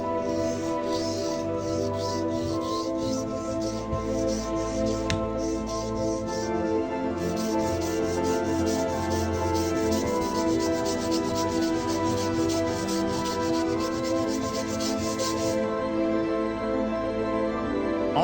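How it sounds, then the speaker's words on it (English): A kitchen knife drawn repeatedly across a whetstone, giving a steady, continuous gritty rubbing that carries on without pause under faint background music. "So I will sharpen it with my whetstone until it's sharp enough."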